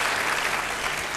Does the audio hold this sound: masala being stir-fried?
no